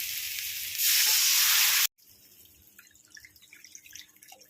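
A loud hissing sizzle bursts up as water is poured into a hot pan with fenugreek leaves, holds for about a second, then cuts off, leaving soft bubbling and faint drips.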